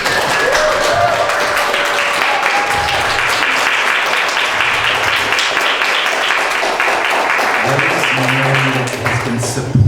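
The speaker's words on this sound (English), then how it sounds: "Round of applause, please." A lecture audience gives sustained applause to guest speaker Dr. Rosemary Candelario at a Butoh festival event. The clapping stays dense and steady for the full stretch, with a few faint voices mixed in.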